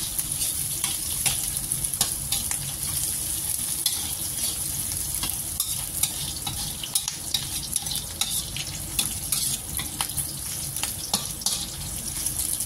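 Spices for a mushroom chicken dish stir-fry in a pan, with continuous loud sizzling and frying crackle, plus frequent scraping clicks of a utensil stirring, up close and without speech.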